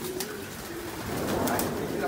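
Domestic pigeons coo softly in a pigeon pen, their low, murmuring calls blending with a faint background hiss and a voice nearby.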